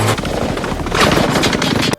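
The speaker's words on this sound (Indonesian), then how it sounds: "mereka juga dihujani dengan ratusan peluru" A dense hail of gunfire from an action film, with rapid overlapping automatic bursts that stay loud and continuous for about two seconds before cutting off abruptly.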